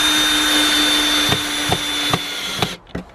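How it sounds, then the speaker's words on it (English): A power screwdriver drives a screw into a wooden crop frame in a garden, a steady whirring hum broken by several sharp clicks and knocks as the screw seats, then the motor cuts out. "And we'll just tighten that screw in."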